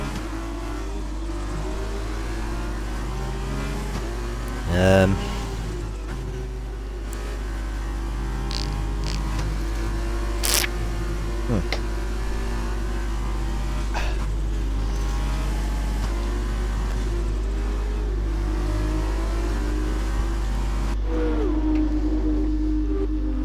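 Formula 2 race cars on a formation lap at the Mexico Grand Prix drone at a steady mid-distance pitch, with engine notes rising and falling as cars pass and a brief louder burst near the start.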